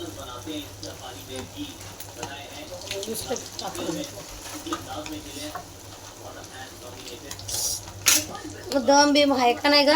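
Large chicken 65 pieces crackle and sizzle in hot oil as they deep-fry, a continuous close bubbling with occasional stirring and brief louder spits, while voices talk faintly over it.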